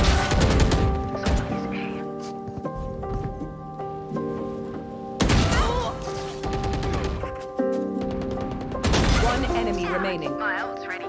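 Gunfire from the video game Valorant crackles in loud bursts across the clip, with sharp broadband volleys near the start, middle and end, layered over game tones and a player talking.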